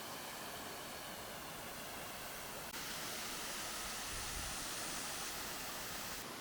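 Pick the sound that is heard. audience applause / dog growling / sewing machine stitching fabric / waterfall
waterfall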